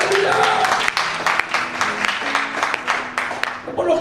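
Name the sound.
congregation applause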